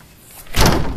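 A cheap door with loose, peeling rubber weather stripping is pulled shut by hand without latching, giving one loud close thud midway after quiet handling noise.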